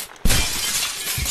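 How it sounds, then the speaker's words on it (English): Glass shattering in the video game Happy Wheels: a sudden loud crash bursts out after a brief quiet moment, followed by a sustained bright spray of breaking shards that stays loud to the end. "We broke the glass."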